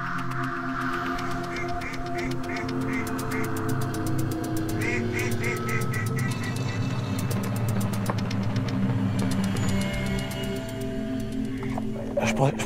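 Ducks quacking and honking during migration at a hunting hide, repeated bursts of rapid calls in clusters over a steady low hum, with people talking quietly nearby.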